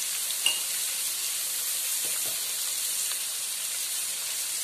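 Sliced onions sautéing in a pan with salt and turmeric for a Kerala-style roasted-coconut chicken curry, a steady close sizzle and hiss of frying with a few faint stirring scrapes, no voices.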